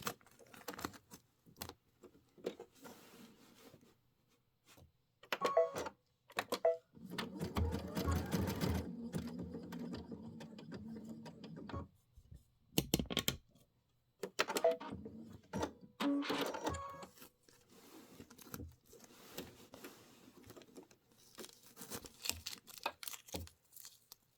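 A sewing machine stitches bat embellishments with thread for a Kimberbell pumpkins and potions project, running in close bursts of rapid needle chatter that stop and start, with clicks and handling sounds in the pauses.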